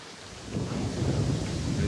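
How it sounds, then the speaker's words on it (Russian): Strong autumn wind roars in a broad, rushing gust at a carp-fishing spot, swelling after a moment and staying loud and close. "Вот это ветер."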